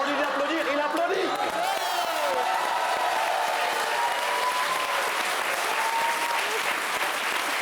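Steady, dense applause from a television studio audience, sustained at a constant level throughout with a faint whistle-like tone and some voices mixed in.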